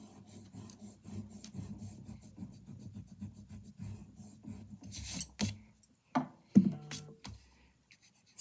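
Pencil and eraser rubbing and rasping on paper during still-life thumbnail sketching, a steady close scratchy scrubbing for several seconds, then a few sharper brushing strokes and taps near the end.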